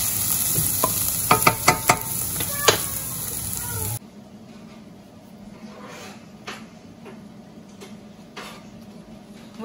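Olive oil sizzling in a pan while bolognese sauce is being cooked, with busy stirring, clinks and utensil taps, loud for the first few seconds and then a quieter, steady sizzle with scattered knocks.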